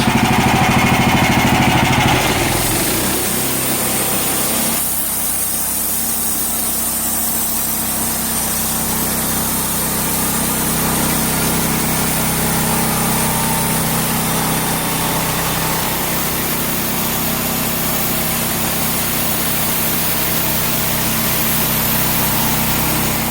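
Sawmill engine running steadily during the final cut through log flitches outdoors, a loud continuous droning roar that holds almost unchanged after a brief shift near the start.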